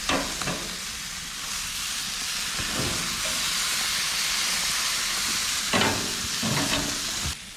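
A venison backstrap sizzles and hisses steadily on a hot grill, a continuous loud fry with a few sharper pops and clanks from handling.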